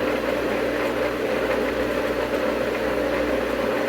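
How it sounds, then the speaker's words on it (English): A struggling swimming pool pump runs on its own with a steady, continuous mechanical hum and rattling drone, loud and even throughout with no talk over it, pointing to a clogged intake. "Now just the pump sound alone, I could tell that it's having a hard time sucking."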